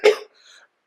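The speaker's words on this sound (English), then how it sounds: "It's that strep throat cough." A single rough, hoarse cough from someone with strep throat, close and loud, followed by a brief quieter breath and the start of a second cough.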